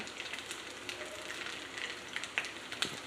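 Cut coconut pieces fry in oil with a soft, steady sizzle. Faint crackles and pops break through now and then, fairly quiet and with no voices.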